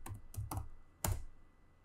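A short command is typed on a computer keyboard: a few quick close key clicks followed by a firmer keystroke, probably Enter, in an otherwise quiet room.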